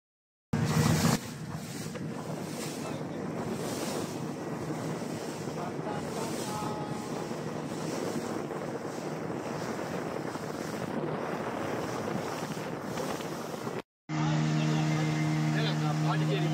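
A boat rides across the Pondicherry backwater toward the sea waves, with a constant roar of wind buffeting the microphone over rushing water and motor noise, loud and unbroken apart from a brief cut near the end.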